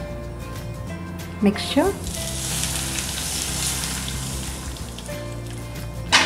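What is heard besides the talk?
hot oil being poured into turmeric pickle mixture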